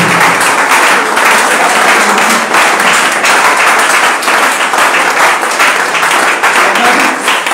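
A church congregation claps and applauds loudly and continuously, a dense, sustained burst of many hands close by with no break.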